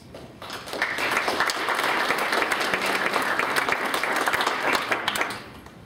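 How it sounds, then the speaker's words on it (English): Participants at a Muskegon County board planning session give themselves a round of applause: steady, close clapping from a roomful of people that swells quickly, holds for about five seconds, then fades. "you should give yourselves a round of applause"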